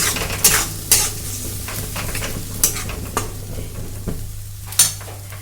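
Ground spice paste, loosened with a little water, fries in a kadai: a continuous sizzle broken by several sharp clanks and scrapes of a stirring utensil against the pan.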